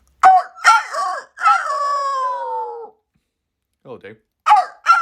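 Human voice imitating a rooster crow, a series of short choppy calls leading into a long drawn-out strained cry, loud and close, followed by brief quiet and a couple of short vocal bursts.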